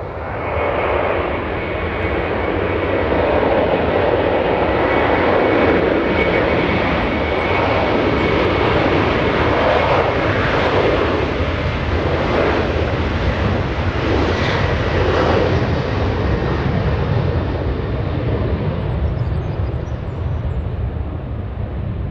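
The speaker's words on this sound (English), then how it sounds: "Alaska 114 flying to Seattle, Washington, a 737 900. CFM 56 engines on those." An Alaska Airlines Boeing 737-900 jet airliner with CFM56 engines makes a loud, steady roar that holds without a break at an airport, close by and with no voices over it.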